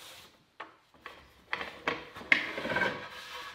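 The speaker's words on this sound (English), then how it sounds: "I'll use a chisel or a putty knife to clean up most of the squeeze out" A chisel or putty knife scraping glue squeeze-out off cherry boards, heard as about five short rasping strokes that grow louder and closer together, ending in a longer scrape.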